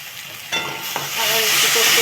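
Spice paste with beaten sour yogurt and ginger paste sautéing in a pan, a soft steady sizzle that grows louder after a sharp clatter of stirring, with bright bubbling hiss through the second half.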